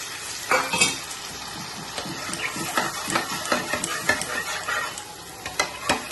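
Bowl-rinse water hitting hot oil in a pan, a sharp sizzling hiss with repeated scraping, clattering stirring strokes in an uneven rhythm, close up.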